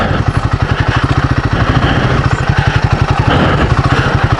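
A Royal Enfield Himalayan 450 motorcycle rides in first gear, its engine close and loud with a fast, steady, pulsing thump and mechanical clatter throughout.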